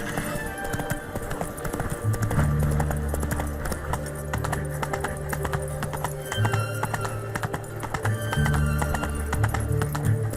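Horse gallops at steady speed in The Witcher 3, with rhythmic hoofbeat clip-clop running throughout, set under game music and background sound.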